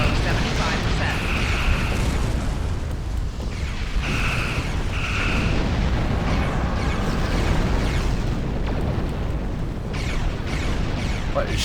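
Enemy weapons fire strikes a starship in Star Trek Online, a steady rumble of impacts and bursts with sharp pops, all under a dense layer of game effects and spoken voice throughout.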